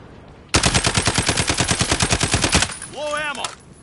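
A SCAR rifle in Call of Duty lets loose a long, loud, fast automatic burst of about twenty evenly spaced shots, then stops. A brief rising electronic tone follows.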